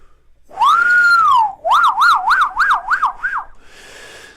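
A loud alarm siren sound effect sweeps up and down in a long rising-falling wail, then warbles rapidly several times before trailing off with a short steady tone.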